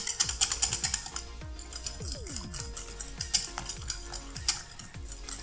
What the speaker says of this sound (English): We're gonna switch on over to a whisk just to finish out that texture.